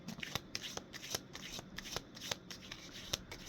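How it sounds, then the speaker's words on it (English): Tarot cards being shuffled by hand, a steady run of crisp riffling snaps and soft slides close up, with no talk. "we're going to just do a little shuffle a little bit more"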